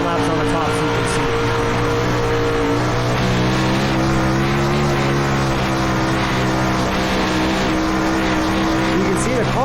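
A winged sprint car lapping the top of a dirt oval, its engine roaring loud and steady throughout with a sustained high-revving drone and a slight pitch rise as it drives through the turns.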